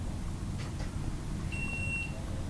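A single short electronic beep from a Sega Dreamcast console booting up sounds once, thin and fairly faint, over a low background hum.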